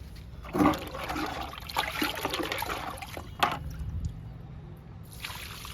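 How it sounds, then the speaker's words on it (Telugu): Liquid fertilizer pouring onto potted curry leaf plants, a splashing trickle with a couple of sharper gushes, fairly close and heard alone. "కరివేపాకు మొక్కలకి లిక్విడ్ ఇద్దాము"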